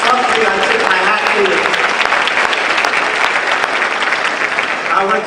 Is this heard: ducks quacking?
no